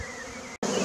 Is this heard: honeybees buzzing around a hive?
yes